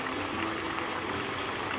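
Mini potatoes simmering in a pot of Filipino chicken adobo, a steady close bubbling and hiss of boiling liquid filling the short moment without speech.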